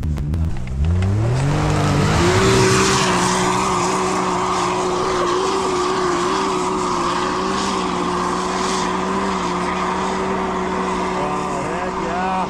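A 200-horsepower off-road machine runs along backcountry tracks, its engine revving up sharply at the start and then holding a loud, steady drone close by for the whole stretch.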